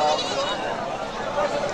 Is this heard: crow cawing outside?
no